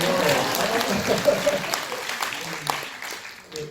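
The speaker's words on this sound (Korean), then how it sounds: "박수 한번 쳐주시면요." Audience applause fills a welfare-themed talk concert hall in Korea, a dense, steady clapping from the crowd that gradually thins and fades over a few seconds, with faint voices mixed underneath.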